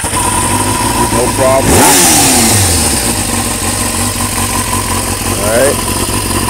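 A 1995 Kawasaki ZX6D motorcycle engine turns over and catches, then revs and settles into a steady idle with a few more throttle blips, close by, while someone talks briefly over it.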